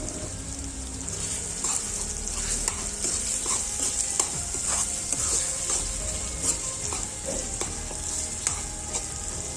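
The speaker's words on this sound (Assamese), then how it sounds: "বিলাহীখিনি সিজিছেই আৰু লগতে অলপমান আদা ৰচুন দি লৈছোঁ।" Tomatoes frying in a pan with ginger and garlic, a steady sizzle under repeated stirring scrapes and taps, close and continuous for several seconds, no talk.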